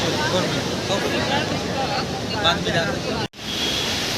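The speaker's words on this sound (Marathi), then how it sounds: "किती समुद्राच्या लाटांचा आवाज" A continuous roar of sea waves and wind at Marine Drive, Mumbai fills the air, with a brief dropout near the end before the surf noise resumes.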